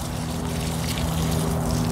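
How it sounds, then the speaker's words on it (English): Water mixed with fertilizer pours and trickles onto garden plants in a steady, close splashing stream over a low, constant hum, with no speech. "Give them all a good drink of water"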